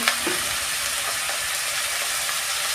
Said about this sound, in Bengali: আমার তেল গরম হয়ে গেছে আমি সবজিগুলো দিয়ে দিচ্ছি